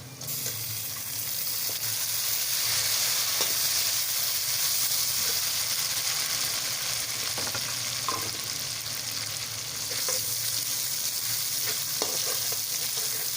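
Tomatoes frying in a pan with other ingredients for a Mughlai shahi dal, a continuous close sizzle with faint stirring scrapes and no talking.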